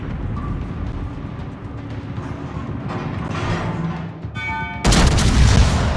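The secondary guns of the battleship Tirpitz fire in the naval game World of Warships, a stretch of rumbling gunfire and booms that ends in a sudden, louder blast.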